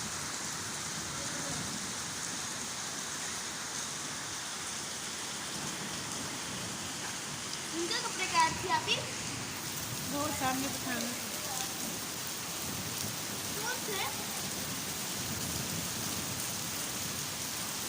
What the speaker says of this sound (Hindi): जो बादल हैं वो भी बहुत ज़्यादा गरज रहे थे